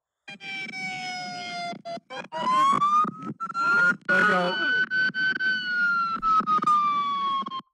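A police siren wails in a steady rising and falling tone, loud and close, with brief gaps where it cuts out.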